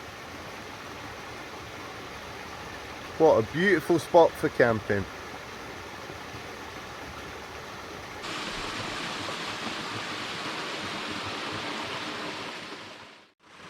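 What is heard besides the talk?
small waterfall at a wild camping spot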